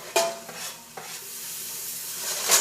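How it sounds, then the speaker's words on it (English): Chopped garlic hits a pan on medium-high heat with plenty of liquid, giving a sharp hiss that settles into a steady, close sizzle alongside a few stirring scrapes, with no talk. "All right, so now my garlic goes into the pan."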